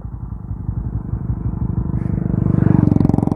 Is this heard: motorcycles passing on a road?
yes